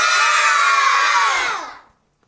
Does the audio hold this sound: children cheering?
yes